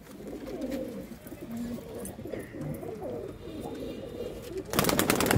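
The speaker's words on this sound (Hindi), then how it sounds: "गोल्डन जीरा कबूतर है जी" Soft, repeated cooing from a golden jira pigeon held up for show at a pigeon sale in Ludhiana, close and low, with a loud burst of noise near the end.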